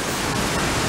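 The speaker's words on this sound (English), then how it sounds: "just to get a quick look at a waterfall" Potato Falls waterfall in Gurney, Wisconsin, a steady, dense roar of falling water that fills the whole moment without a break, loud and close with no voices over it.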